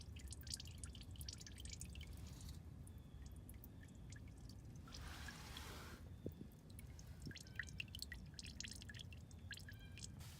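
Green coolant drips and trickles from a car's thermostat housing into a container, a steady faint stream with scattered individual drips over low background hum.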